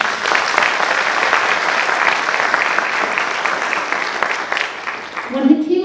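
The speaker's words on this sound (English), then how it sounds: "So please give yourself an applause." Graduates at a graduation ceremony in Kenya applaud themselves, a sustained dense wash of many hands clapping that holds steady and fades slightly toward the end, with a voice rising at the close.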